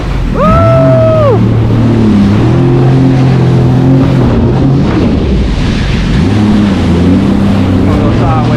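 A jet ski engine drones loud and close while riding choppy Pacific Ocean waves off San Diego, its pitch rising and falling as the craft hits swells, with wind and spray noise throughout and a voice heard over it.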